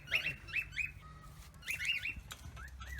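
Birds chirp at a distance outdoors in several quick bursts of high, thin tweets over a low rumbling background, fairly faint, with no voices.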